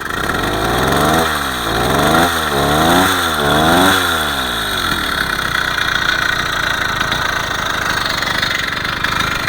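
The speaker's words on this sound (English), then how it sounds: "what it sounds like idling" A motorized bicycle's small two-stroke engine idles with a rapid, uneven putter, rising and falling in speed at first, then settling into a steady rattling idle.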